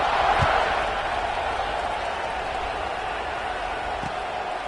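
Steady roar of a football stadium crowd at kickoff of an FSU versus Florida college game, a broad continuous wash of massed voices and noise holding loud throughout with no distinct speech.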